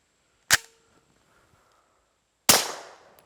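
Two sharp shots from a Springfield Armory Echelon pistol fitted with a suppressor, about two seconds apart, each a loud crack with a short decaying tail, alone in a quiet outdoor setting.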